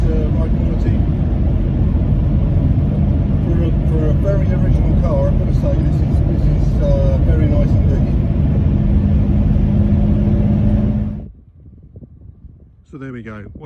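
A 1962 Jaguar Mark 2 3.4 with manual overdrive is driven, making a steady, loud engine and road rumble heard from on board that drops away suddenly near the end, leaving quieter background sounds.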